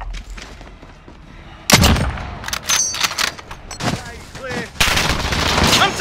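Gunfire in the video game Call of Duty: Modern Warfare, loud repeated bursts of shots starting partway in and continuing in close, sharp volleys, with game voices heard between them.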